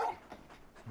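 Torgal, the large dog in Final Fantasy 16, pants softly in a few short breathy puffs, close and faint.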